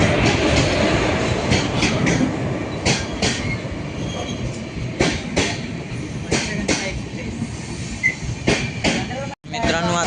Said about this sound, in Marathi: फायनली आपली ट्रेन आलेली आहे